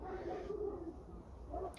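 A Polish Silver pigeon gives a soft, low cooing phrase, close and alone, with a second brief coo near the end.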